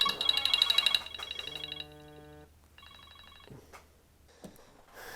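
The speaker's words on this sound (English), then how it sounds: "now my phone's ringing" A phone rings with a bright, tonal electronic ringtone that repeats in short bursts, loud at first and then quieter and broken up.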